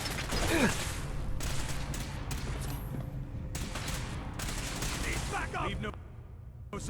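Video game combat with continuous gunfire and mechanical clatter under shouted commands, a dense, steady battle texture that fades slightly near the end.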